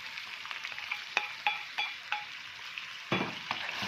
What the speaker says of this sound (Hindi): अदरक, लहसुन और सब्ज़ मिर्चों का पेस्ट हम डाल देंगे इसमें